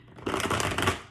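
A tarot deck shuffled by hand, a fast dense riffle of flapping card edges lasting about a second, close and steady with no voice over it.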